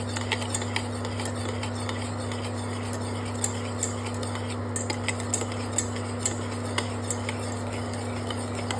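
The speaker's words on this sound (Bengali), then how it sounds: "এবার আমি হাই ফ্লেমে এর একটা শিরা তৈরি করে নেব আর কন্টিনিউয়াস নাড়তে থাকবো" Steady stirring of jamun pulp syrup in a pan over a high flame, with light scraping and faint utensil ticks repeating over a constant low stove hum, no talking.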